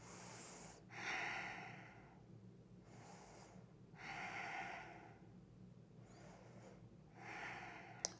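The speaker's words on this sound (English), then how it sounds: "Breathing here." Slow yoga breathing in chair pose: three long, audible breath cycles, each airy exhale rising and then easing off, heard close up over a low hum.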